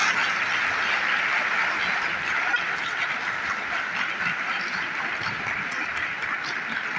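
Sustained audience applause filling an academic hall at a university climate change and sustainability event as the vice chancellor of the Islamia University of Bahawalpur is welcomed, a steady dense wash of clapping with no pauses.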